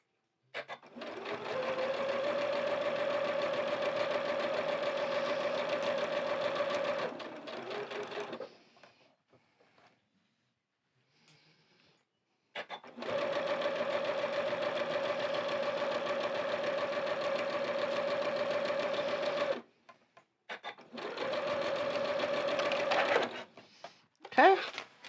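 A sewing machine stitches a sunflower quilt in two long steady bursts of fast, rhythmic whirring, broken by a quiet pause and followed by a shorter run, with faint talk in the gaps.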